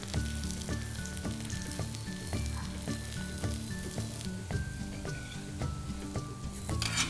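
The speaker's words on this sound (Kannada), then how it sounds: "ಮೇಲೆ 1 ಚಮಚ ಎಣ್ಣೆ ಹಾಕಿ ಸ್ವಲ್ಪ ಬೇಯಲು ಬಿಡಿ." Rava dosa cooking in oil on a hot pan, a steady close sizzle running throughout with light metallic clinks of a utensil against the pan over a layer of rhythmic background music.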